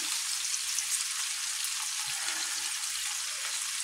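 Onion, garlic and peppers fry in a pan with a steady, close, crackling sizzle that stays even throughout, without talk.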